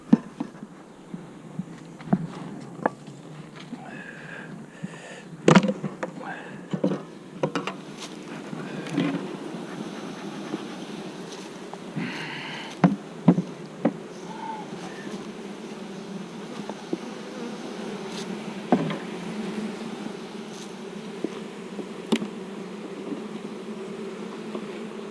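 Honeybees buzz steadily around an open hive during November hive work outdoors, a continuous droning hum with scattered closer passes and occasional wind bumps on the microphone.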